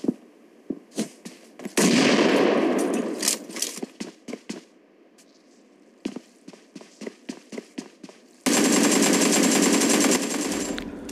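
Gunfire in the mobile battle royale game BGMI: bursts of rapid automatic shots and single cracks, with in-game footsteps between them, ending in a long dense stretch of sustained fire.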